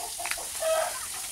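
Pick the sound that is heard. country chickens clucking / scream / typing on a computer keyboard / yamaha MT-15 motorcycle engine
country chickens clucking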